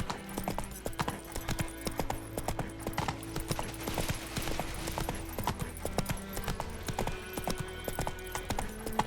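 Horse hooves galloping in The Witcher 3: Wild Hunt video game, a rapid steady clip-clop rhythm running throughout, with game music tones underneath.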